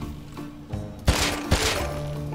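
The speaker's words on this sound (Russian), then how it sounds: "Я снова слышу стрельбу с берданки" Berdan rifle shots in the survival game Rust, two sharp cracks about half a second apart ringing out over a steady low game ambience, no talk.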